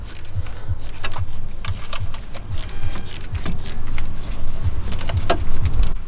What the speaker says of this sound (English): now I'm gonna tighten it up down there with my mini ratchet, little 1/4-inch guy